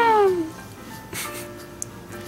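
A cat meows once with a falling, drawn-out cry at the start, fairly close and clear, followed by quieter background noise and a few faint clicks.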